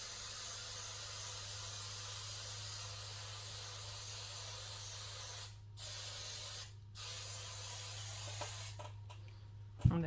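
Aqua Net hairspray is sprayed onto a tumbler in two long steady hissing bursts, close and continuous, with short pauses between them and a small clunk at the end.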